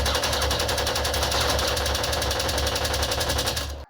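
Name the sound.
rifle gunfire in a PlayStation 5 video game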